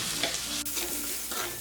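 Green chillies and curry leaves sizzling in hot oil in a pan as they are stirred, a steady close frying hiss with the soft scrape of a spoon running through it.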